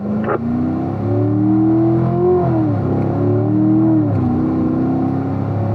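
A race car engine on a Las Vegas training circuit pulls hard and close, its loud, steady drone climbing in pitch with brief dips where it shifts up through the gears.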